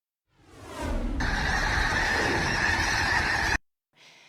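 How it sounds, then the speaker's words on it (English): A field full of snow geese honks in a dense, loud, continuous chorus of overlapping calls, then cuts off abruptly before a brief quieter burst of honking resumes. "And Great Falls resident Rick Walter stumbled upon this field filled with snow geese"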